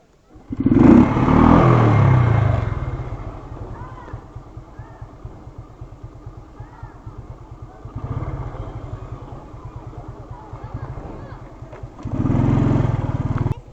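A motorcycle engine runs steadily on a street, rising louder at the start and again near the end with a low throbbing rumble, while voices talk nearby.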